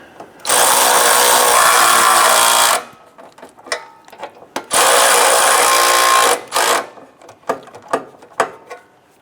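A power tool runs nuts onto the exhaust of a 2011-2021 Jeep Grand Cherokee 3.6L V6 during an upstream O2 sensor job. Two close, loud whirring bursts of a couple of seconds each are followed by scattered mechanical clicks and clatter.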